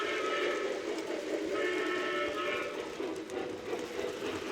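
A train sound effect plays for a Twitch hype train, with whistle-like tones over steady rumbling noise that continues throughout.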